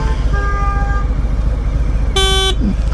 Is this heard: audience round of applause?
no